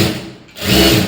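An electric sewing machine stitching the lining of a blouse: a loud, close whirring run that pauses briefly and then starts up again.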